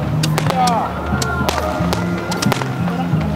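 Fireworks popping and crackling in several sharp bursts in Busan, South Korea, with a crowd of people talking and chattering throughout.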